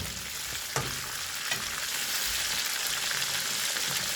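Chicken karahi pieces fry in a pan with a steady close sizzle and crackle, a few stirring knocks and clinks breaking through, with no one talking.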